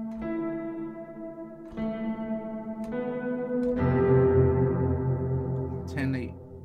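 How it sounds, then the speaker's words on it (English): Grand Piano AUv3 2 sampled piano chords on iPad with auto pan and reverb applied, sustained notes shimmering and ringing out, moderately loud with a new chord struck partway through. "We've also got some auto pan."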